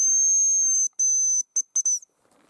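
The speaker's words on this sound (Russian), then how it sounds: "И главное, свищу сегодня," A hand whistle blown in the taiga gives shrill, piercing blasts: two long steady tones, then three short chirps in quick succession, loud and close, followed by near silence.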